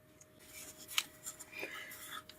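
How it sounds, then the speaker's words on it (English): Scissors cutting pattern paper pieces to length for a North Pole craft construction, a few soft close snips and paper rustles, quiet and brief. "So I'll cut these two pieces to length."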